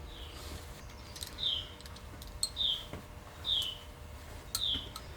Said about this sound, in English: Sounds like I got me a bird in here in the chicken house with me.